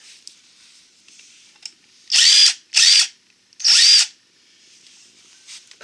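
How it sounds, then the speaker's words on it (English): A DeWalt impact driver works on a small scooter tire repair, firing three short, loud bursts in quick succession, separated by brief pauses, with quiet shop background between them. "My DeWalt Impact."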